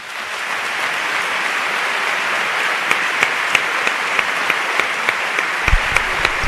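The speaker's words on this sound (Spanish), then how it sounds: "le honra pedir la ovación para Paco Vélez en su último pregón." Loud, sustained ovation from a large audience at the Seville Holy Week proclamation, dense clapping with sharper individual claps standing out near the end.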